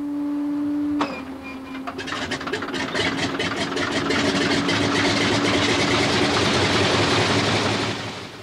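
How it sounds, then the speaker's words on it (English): A Pratt & Whitney air-cooled radial aircraft engine coughs to life and settles into a loud, steady, rumbling run with rapid rhythmic firing, close and continuous. "The sight and sound of the past, a Pratt & Whitney air-cooled radial engine."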